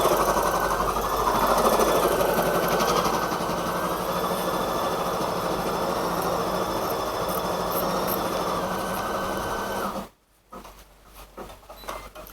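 An electronic embroidery machine stitches a placement outline onto a towel for a bear appliqué, a loud steady mechanical whirr with a fast stitching rhythm for about ten seconds, then it stops abruptly, leaving quiet room sounds and small clicks.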